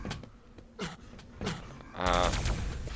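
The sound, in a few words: machine gun fire in the video game Quake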